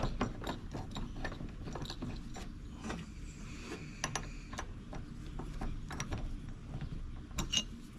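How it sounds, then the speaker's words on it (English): A ratchet clicks in quick irregular bursts, close but fairly quiet, running down T30 bolts on a Rugged Ridge jack mount, with the metallic clicks repeating across the whole stretch. "Then you run them down with your ratchet."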